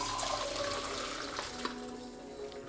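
Water pours steadily into a pot for boiling branches, a continuous splashing trickle heard close and fairly quiet, running without interruption.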